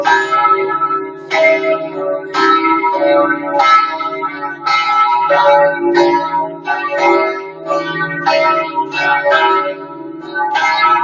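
Bells of St Mark's Campanile in Venice toll at nine o'clock, loud and close from inside the tower, with repeated overlapping clangs in a steady rhythm and long ringing tails.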